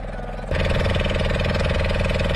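Boat engine running on backwaters at Pulicat, a loud, steady mechanical drone with a rapid rhythmic throb that jumps in level after a brief quieter start.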